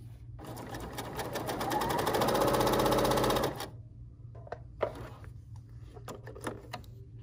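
A Bernina L 890 sewing machine stitches at speed for about three seconds in a loud, rapid mechanical whir, then stops, leaving a few soft clicks and taps close by.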